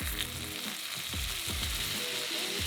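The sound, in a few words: vegan sausages frying in a pan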